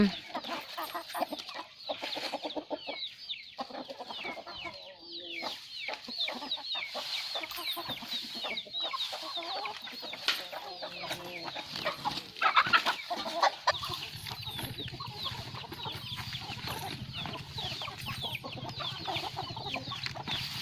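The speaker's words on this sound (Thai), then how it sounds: "เริ่มทะเลาะกับไก่อีกแล้วนะคะ" Chickens, including a fighting rooster, cluck repeatedly at close range, with a steady bed of busy farmyard noise throughout; no one speaks.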